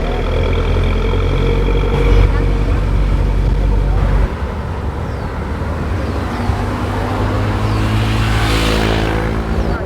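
Public bus driving through Chalong in Phuket, heard from on board: a loud, steady engine drone with low rumble and road noise throughout, a downshift or gear change near the middle, and faint voices in the background.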